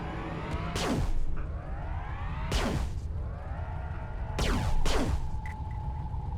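Rapid weapon fire in the space shooter game Everspace: several sweeping, whooshing shots in quick bursts over a steady low rumble, with no talking.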